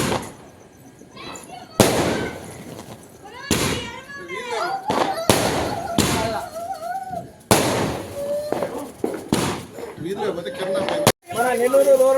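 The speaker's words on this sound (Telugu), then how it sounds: "దీపావళి సందర్భంగా ప్రతి ఇంట టపాసులు కాల్చి సంబరాలు జరుపుకున్నారు." Firecrackers bursting during Diwali celebrations in a village near Nellore: sharp, loud cracks and pops repeat irregularly across the clip while children shout and talk excitedly in the background.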